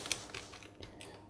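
Quick, soft keystrokes of someone typing HTML code on a computer keyboard, a brief close-up flurry of light clicks at low volume.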